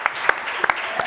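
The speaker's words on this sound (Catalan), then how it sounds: "Jo els aplaudeixo amb ells també" A short burst of applause from a small group on a podcast, with a handful of distinct claps over a soft, continuous patter.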